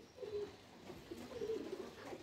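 Pigeons freshly bathed after rain coo in low, repeated murmuring phrases, quiet and somewhat distant against a soft ambient background.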